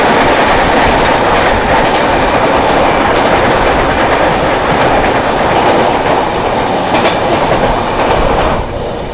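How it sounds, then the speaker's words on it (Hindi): The Yesvantpur Lucknow Superfast Express thunders past at a railway crossing, very loud and close, with a continuous roar of wheels and clickety-clack from the coaches throughout. "सामने से आ रही है यशवंतपुर लखनऊ सुपरफास्ट एक्सप्रेस"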